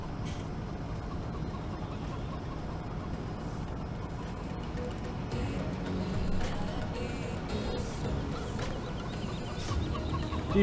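Chickens cluck and squawk in the farming video game Farming Simulator 17, a steady busy barnyard bed running continuously throughout with no talk over it.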